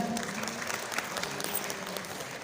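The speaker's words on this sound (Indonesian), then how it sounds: "tepuk tangannya untuk AMD Indonesia" An audience applauds steadily throughout, dense clapping from many hands with a faint murmur of the crowd underneath.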